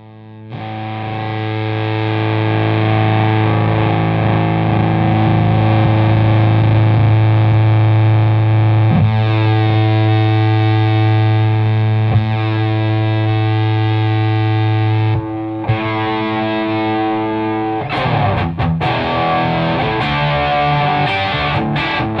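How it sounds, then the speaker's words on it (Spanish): Electric guitar played through a Retrohead Toxic Fuzz pedal, a thick, loud, sustained fuzzy tone ringing steadily for most of the stretch, then shifting into choppier, broken strums near the end, with no talking. "voy a ir tocando, voy a ir moviendo todos los controles que tiene este pedal para que vos vayas escuchando qué hace, cómo suena"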